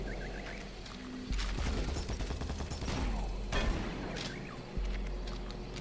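Chaingunner enemy firing a rapid stream of shots in Doom 3: The Lost Mission, faint and low in level, with overlapping game noises and booms around it.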